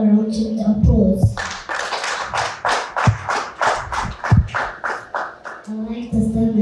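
An audience at a formal debate applauds with several seconds of steady, rhythmic clapping, with a voice speaking just before and after.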